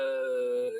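A voice imitates a jet airplane with a steady, sustained droning hum that holds level for under a second before tapering off.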